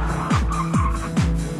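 A Dodge Viper SRT10 sports car drives hard with its engine roaring, while its tires squeal in three sharp, sweeping bursts close by.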